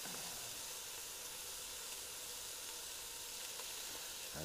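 Beef searing in a hot Dutch oven on a stove, a steady, loud broadband sizzle and hiss that holds evenly throughout with no talking.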